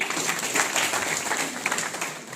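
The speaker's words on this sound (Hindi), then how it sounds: "तालियां बजाओ इनके लिए" An audience at a network marketing seminar applauds steadily, a dense wash of clapping that holds throughout at moderate loudness.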